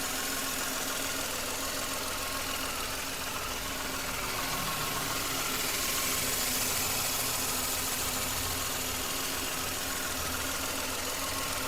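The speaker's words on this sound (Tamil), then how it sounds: "வண்டியோட இன்ஜின் நாய்ஸ் நான் உங்களுக்கு மைக்கை பக்கத்துல வச்சு எப்படி இருக்குன்றத காட்டுறேன்" A 2016 Renault Kwid RXT idles with the microphone held near the engine. The small engine gives a steady, even hum with faint ticking and vibration, holding at a constant level for the whole stretch with no voices.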